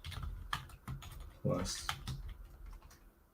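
A computer keyboard is typed on in short irregular bursts of clicks, close up, with a person talking between the keystrokes.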